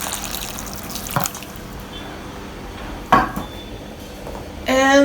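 Water splashes into a cooking pot of Bhutanese chicken stew in short bursts, with a metallic clink and a longer steady pour at the end, close and fairly loud.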